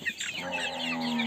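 A flock of desi chickens clucks and murmurs on a poultry farm, a dense chorus of overlapping clucks under a continuous low background with no voices.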